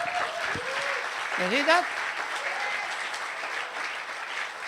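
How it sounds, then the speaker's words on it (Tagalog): Applause from a church congregation at a 14th-year anniversary service fills the clip as a steady, moderate wash of clapping, with a voice speaking briefly over it. "Lakasan nyo yung palakpak nyo."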